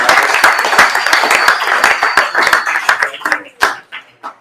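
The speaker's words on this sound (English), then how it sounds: "round of applause for Cooper Parry" Audience applause at a tech conference stage event, a lively burst of many hands clapping that thins out into a few scattered, separate claps before fading.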